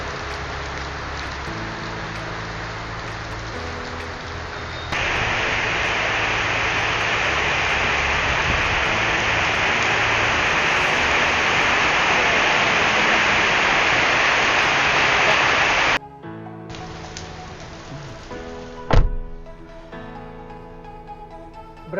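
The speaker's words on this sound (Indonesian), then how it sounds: "Aduh, hujan nih guys, hari ini hujan." Heavy morning rain, likely heard from near a Toyota Alphard, pours as a loud, steady, dense hiss for several seconds, preceded and followed by quieter sounds and a brief sharp knock near the end.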